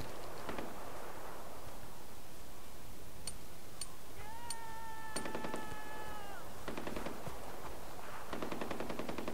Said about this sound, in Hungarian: Hallottam a nyávogását a cicának.